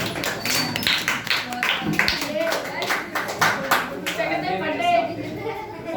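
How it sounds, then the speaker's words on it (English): An audience at a public speaking competition claps for a speaker, with irregular overlapping hand claps continuing throughout under a talking voice. "Clap for Mohan."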